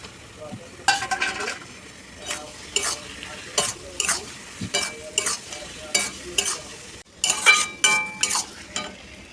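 A spoon scrapes and stirs banana flower paste frying with chili powder, coriander powder and spices in a pan, in repeated rhythmic strokes over a steady soft sizzle, close and fairly loud.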